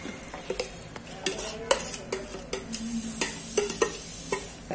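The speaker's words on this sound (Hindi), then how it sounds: "अब ये मटन इसमें डालते हैं।" Mutton going into a pot of spiced masala for biryani and being sautéed over low heat, with a quiet sizzle under repeated clinks and scrapes of a metal spoon against the pot.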